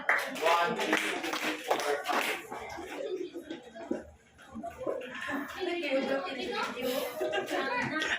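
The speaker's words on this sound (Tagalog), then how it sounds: "Bigyan si Nishan ng 5 palakpak!" Schoolchildren in a classroom clap in short bursts with chuckles and laughter mixed in, while voices talk over and between the claps.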